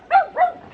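A dog gives two quick, close barks in rapid succession, sharp and fairly loud, then falls quiet.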